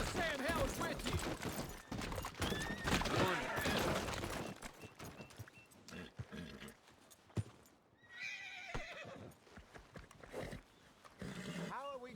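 Horse hooves clip-clop in Red Dead Redemption 2, mixed with whinnies and snorting, loud and close, with people talking over the animal sounds.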